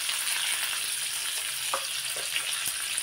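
Curry leaves dropped into hot oil, crackling in a steady hissing sizzle with a few sharp pops, heard close and alone.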